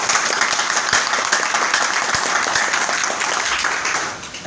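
An audience at a business and financial-freedom seminar claps in a dense, steady wash of applause that holds throughout, then tapers off at the very end.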